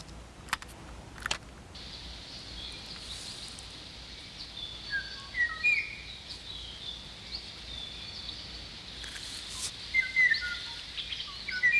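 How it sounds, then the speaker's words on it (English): A tape recording of a Kauai o'o's song played outdoors gives faint, scattered chirped notes over a steady insect-like hiss, with a couple of sharp clicks near the start. "Now, the o'o's tape-recorded song is played back in hopes that the bird will answer."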